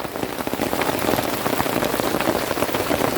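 Rain falls steadily on a forest camp at night near the southern border, a dense, continuous patter of drops on surfaces, close and even, with no voices.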